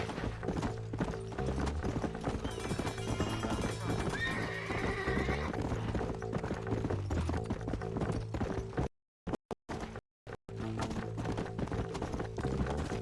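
Horse hooves clip-clop at a steady pace with repeated neighs and whinnies in the western video game Red Dead Redemption, set against game ambience, with brief dropouts near the end.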